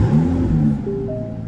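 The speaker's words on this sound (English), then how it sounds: "Very distinctive exhaust note." Aston Martin DB11 V12 coupe from 2018 starting up, a brief rising engine rumble that settles into a steady idle exhaust note, close and fairly loud.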